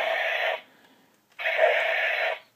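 Two bursts of bright electronic buzzing noise from a Gaburu Cannon DX toy, played without batteries in its beast attachments, the first about half a second, then a pause and a longer second burst, fairly loud and close.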